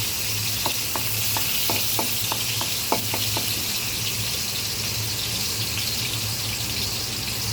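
Onions frying in a pan are stirred, a steady close sizzle with a quick run of light spatula taps early on, then even frying with a low background hum.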